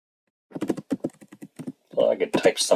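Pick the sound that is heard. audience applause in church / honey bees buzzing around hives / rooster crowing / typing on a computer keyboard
typing on a computer keyboard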